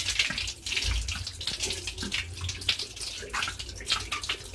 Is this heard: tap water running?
yes